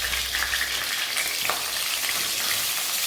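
Pointed gourd fries with a little salt in a pan over a turned-up gas flame, a dense continuous close sizzle with a brief clink partway through.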